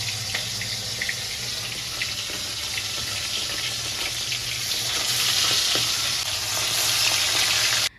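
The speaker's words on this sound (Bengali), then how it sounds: "তো আমি সবগুলো মাছে এরকম করে ভেজে নিচ্ছি" Fish frying in a pan of oil, a dense, steady sizzle heard up close with a few light spatula scrapes, growing slightly louder toward the end before cutting off abruptly.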